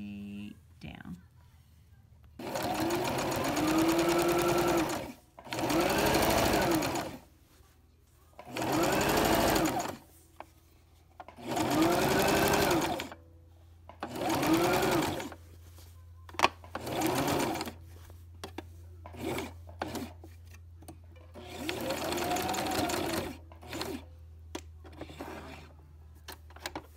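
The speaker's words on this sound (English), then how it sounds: "You simply fold it down just like that, and you sew straight down." Sewing machine stitching straight down a folded quilt flap on a padded quilt-as-you-go piece, running in repeated bursts of a few seconds each with short pauses between them, close and clear, with a low steady hum underneath.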